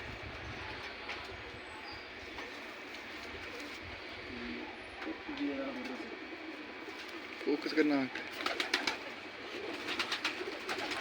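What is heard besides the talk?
pigeons cooing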